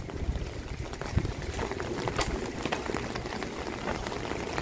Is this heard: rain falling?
yes